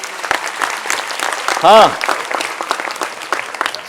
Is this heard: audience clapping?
yes